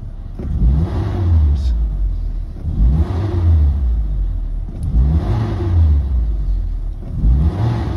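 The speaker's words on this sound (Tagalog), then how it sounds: "idiin ang accelerator niya" Mitsubishi Adventure 4G63 engine with a low-power fault, revved repeatedly as the accelerator is pressed, giving about three rising and falling surges over a steady idle drone, close and loud.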